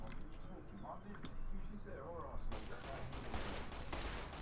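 Gunfire from the Fallout: New Vegas game plays as a rapid run of sharp shots, growing denser and louder in the second half, mixed with other game sounds and someone talking over it.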